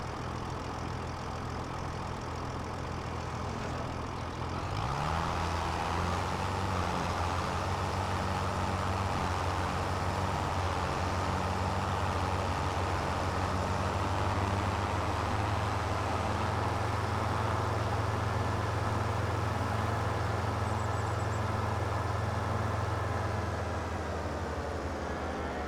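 A farm vehicle engine in Farming Simulator 2025 idles low, then revs up around five seconds and drives on steadily with a loud, continuous low drone that eases off near the end.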